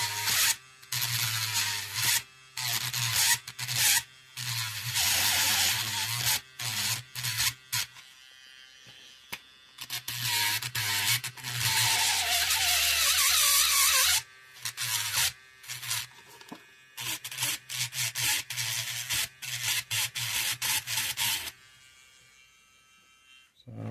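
A Dspiae cordless mini grinder grinds a nub off a model, its motor whining in repeated bursts of a few seconds each, with short pauses between runs and a longer steady stretch in the middle.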